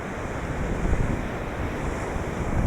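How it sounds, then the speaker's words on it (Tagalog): Strong ocean waves roll onto a wide beach in Zambales, a loud continuous roar of surf with heavy wind buffeting the microphone throughout. "Malakas ang alon"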